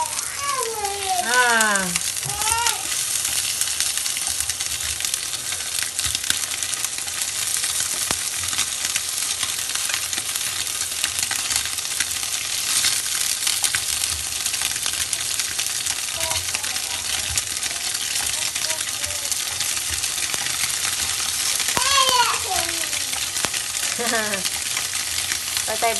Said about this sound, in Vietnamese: Ok, bây giờ là chiên đậu phụ nè.